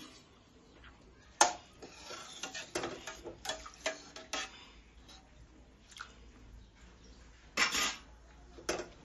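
Prawn biryani being stirred in an AMC cookware pot, quiet scraping and clinking of a spoon against the metal with soft squishy mixing sounds, irregular taps and scrapes close by.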